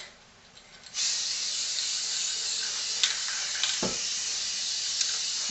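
Sealant hisses steadily from a spray can being applied all around a handmade garden toadstool, a close, continuous loud spray that starts about a second in and keeps going with slight fluctuations.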